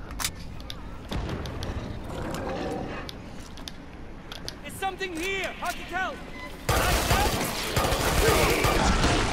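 Rapid bursts of field medic SMG gunfire in the Killing Floor 2 zombie shooter, mixed with mechanical clatter and game effects, growing denser and louder toward the end, with a voice talking over it.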